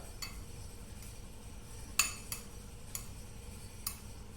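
A spoon stirring a sauce of ginger, salt, lemon juice and mustard in a bowl, giving a handful of faint, spaced metallic clinks against the dish.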